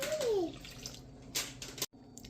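Water poured into a bowl holding sourdough starter while mixing honey sourdough bread dough: a brief, close, gentle pour and trickle over quiet kitchen background, with no talking.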